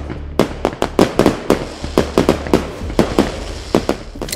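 Diwali firecrackers bursting in Delhi: a rapid, irregular string of loud, sharp bangs, some close together and some spaced out, crackling over a steady low background.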